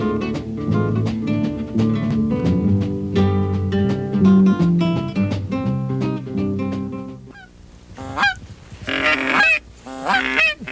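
A flock of geese on a prairie goose hunt over farm fields, with dense overlapping honking, loud and close at first, then thinning to scattered calls.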